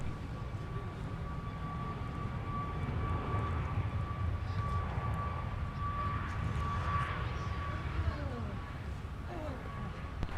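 Airbus A321 airliner taxiing at Minneapolis–St. Paul airport after leaving the south parallel runway, a steady broadband engine rumble with a sustained whine, continuous and moderately loud throughout.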